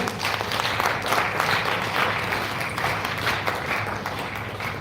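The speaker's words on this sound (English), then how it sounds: "Let's give a huge round of applause for sir." Audience at a management school event applauds after a talk, a steady burst of many hands clapping at moderate volume with no talk over it.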